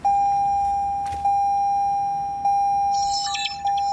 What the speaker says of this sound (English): The dashcam starts working.